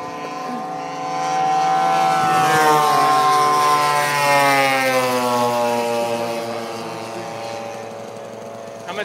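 A propeller warbird aircraft drones steadily and loudly, swelling as it passes close and then easing off, with rising and falling engine tones and no talking.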